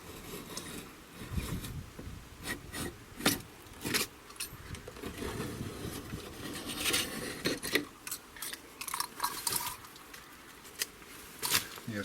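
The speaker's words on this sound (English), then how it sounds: "the next step is just to cut on the edge with a knife, just to break the silicone" A utility knife scrapes and slices through old silicone sealant along the edge of a porch panel during demolition, giving a run of close, uneven rasping scratches and short scuffs with brief pauses, no talking.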